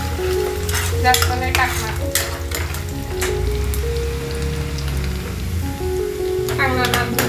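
Chopped onion frying in a pan with a little salt for a chana masala, steady sizzling with stirring scrapes throughout, while someone talks over the cooking.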